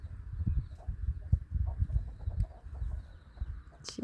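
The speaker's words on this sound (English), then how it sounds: "That's a fine hen right there." A hen on a farm clucking near the hay bales, a series of low, close, irregular clucks and soft grunting calls with brief pauses between them.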